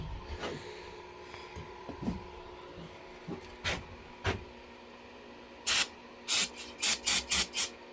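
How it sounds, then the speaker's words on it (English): An aerosol can of brake cleaner hisses onto a small-block Chevy 400 cylinder head in short bursts, scattered at first, then several quick close blasts in a row at the end. "Let me get some brake clean."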